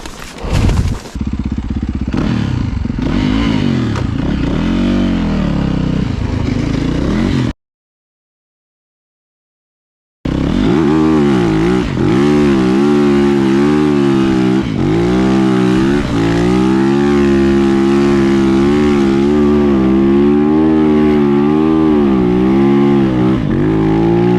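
A motorcycle running without a thermostat on a test ride, its engine droning loud and close with wavering revs, briefly cutting out to silence before resuming a steady, rising hum.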